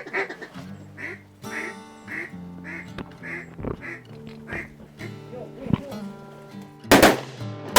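Mallard ducks quack repeatedly in a steady rhythmic series near a hunting blind in Arkansas, with a loud gunshot blast toward the end.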